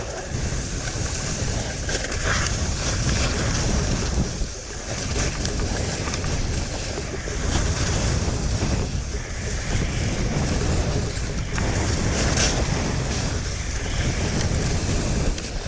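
Strong wind roars steadily across a sunny ski slope at Snowbird, buffeting the microphone with a dense, unbroken rush for the whole stretch.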